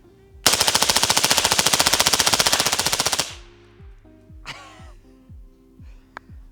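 A CMMG Banshee 4.6x30 fires a fast, even burst of roughly thirty rounds over about three seconds, loud and close, followed by ringing echoes, faint shuffling and a brief breath.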